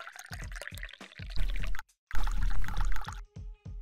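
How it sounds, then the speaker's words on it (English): Green tea pours in the video game Dave the Diver, a close liquid gush in two bursts split by a brief silence, followed by a few quieter dribbles. "Green tea. Pour the right amount."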